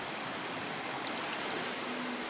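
A mountain stream in a glen in the Ochils flows continuously, a steady, soft broadband rush of water with no other sounds.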